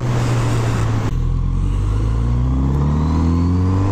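A Kawasaki Z900RS motorcycle engine revs hard and accelerates, a loud, steady roar that climbs in pitch through the gears without pause.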